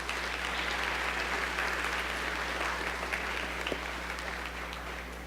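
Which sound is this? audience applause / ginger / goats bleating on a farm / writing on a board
audience applause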